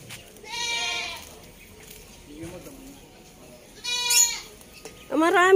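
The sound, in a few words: goats bleating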